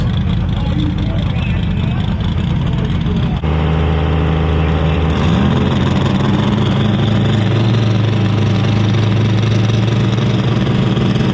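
A drag race car's engine idles loudly with a choppy, lumpy rhythm, steadying into a deeper drone partway through, over a busy outdoor track background.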